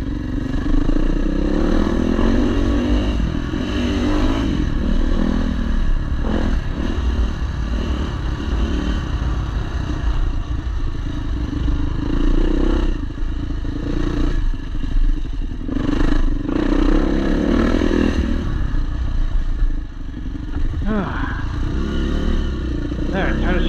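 A Yamaha WR400F dirt bike rides MX trails, its engine a steady loud drone with clattering and revving throughout, under occasional speech.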